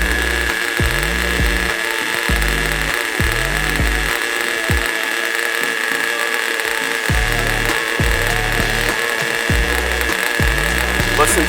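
An Enya 11CX nitro race engine idles on a test stand during its first start-up and break-in. A loud, close, high buzzing whine runs throughout, with a rapid, slightly uneven pulsing underneath.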